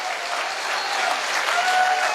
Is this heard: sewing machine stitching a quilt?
no